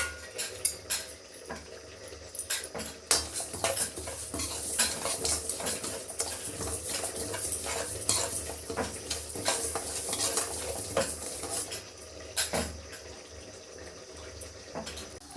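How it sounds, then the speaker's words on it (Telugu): Mustard, cumin and fenugreek seeds dry-roasting in a kadai for a drumstick pickle, with continuous close stirring scrapes, light clinks of a metal spoon against the pan and a soft sizzle throughout, no talking. "బాణలు పెట్టి అందులో ఆవాలు జీలకర్ర మెంతులు బాగా వేపుకోవాలి"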